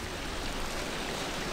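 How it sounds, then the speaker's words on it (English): A waterfall in the video game Die By The Sword gives a steady, broadband rushing wash of falling water, constant and even throughout without any break. "Waterfall."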